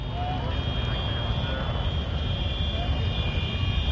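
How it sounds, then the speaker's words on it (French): Many tractors work at once at a French ploughing championship in Xaffévillers, making a continuous dense engine drone and low rumble with a faint high whine, steady throughout, while voices talk faintly beneath. "l'ensemble des tracteurs travaillent en même temps"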